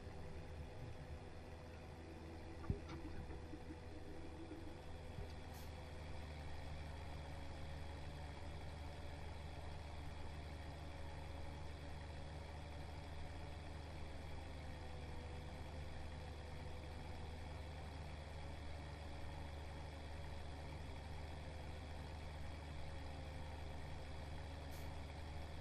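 A farm tractor engine runs steadily while pulling light implements across a field, a constant close, moderately loud drone with a faint wavering tone over it and no talk.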